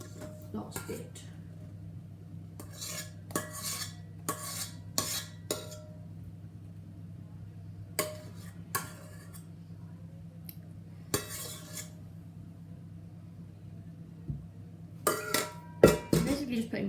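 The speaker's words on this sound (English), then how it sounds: "Basically just putting meringue into a cake to make it all light and airy." A spatula or spoon folds meringue into coffee cake batter in a mixing bowl, making soft scrapes and a string of light clinks and taps against the bowl at an uneven pace, with a clatter near the end.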